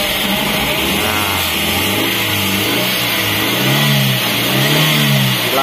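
A Suzuki APV engine fitted with independent ignition coils revs continuously and loudly, with a steady mid-pitched drone that swells and falls as the throttle is worked, and no talk over it.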